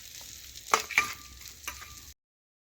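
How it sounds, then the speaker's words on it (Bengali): Fried prawns lifted from hot oil in a kadai, a couple of sharp clinks and scrapes of the utensil over a faint sizzle, close, ending abruptly. "এই দেখুন চিংড়ি মাছ ভাজা হয়ে গেছে, আমি এখন মাছগুলো তেল ঝরিয়ে একটা অন্য পাত্রে তুলে নিচ্ছি।"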